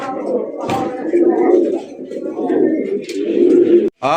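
Fancy racer golla pigeons coo close by in a repeated, throaty rolling murmur, loud and near, with a voice speaking over the birds and a brief sharp break near the end.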